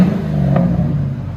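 A 2010 Ford F-250 with a 5.4L V8 and a CARVEN R-Series exhaust, heard from a distance while revving, giving a loud, steady low rumble with a short rise in pitch before it settles back.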